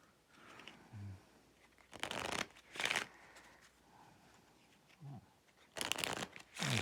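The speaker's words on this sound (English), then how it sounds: "I shuffled this pretty good because they were bunched up on the cards" Board game cards being shuffled by hand, close and quiet, in several short riffling bursts with pauses and light handling between them.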